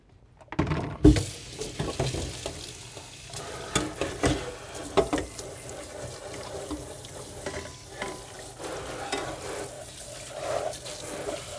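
Tap water runs steadily into a sink while tofu-making gear is rinsed, with clatter and handling bumps throughout, including a sharp knock near the start; no one speaks.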